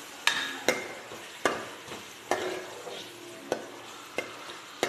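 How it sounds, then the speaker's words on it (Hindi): Onions frying in a pan while a spoon stirs them, a soft sizzle punctuated by regular scraping strokes about every half second, close and without talk. "चलो जब तक मैं प्याज फ्राई करती हूँ"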